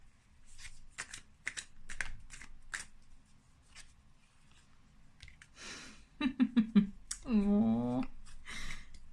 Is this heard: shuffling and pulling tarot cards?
yes